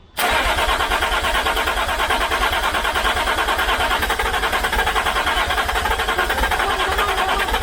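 A Land Rover Discovery with a temporarily bolted starter motor and no muffler fires up after a brief crank, then settles into a loud, raw, steady idle close by.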